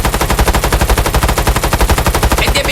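A gun in a video game fires in rapid automatic bursts, a loud, dense, steady rattle of shots repeating at a fast even rhythm for nearly three seconds with no voices.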